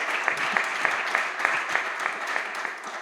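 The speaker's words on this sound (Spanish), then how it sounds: "Vamos a aplaudirlo entre todos" An audience at a flamenco guitar gathering in the sierra breaks into hearty applause, dense continuous clapping close by for a few seconds.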